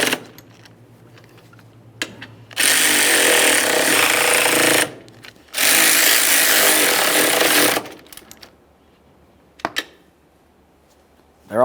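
A power tool snugs the strut mounting hardware on a 2013-2020 Ford Fusion, firing two long, loud rattling bursts close by, with sharp clicks and clanks before, between and after them.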